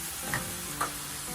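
Garlic sizzles in a frying pan as a steady hiss, with two quick scraping stirs cutting through the sound.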